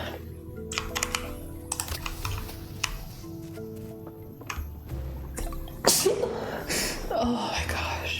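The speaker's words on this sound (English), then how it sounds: "Hold on, I have to sneeze." A single sharp sneeze bursts out partway through, over quiet computer-keyboard typing and soft game music tones during a Coral Island play session.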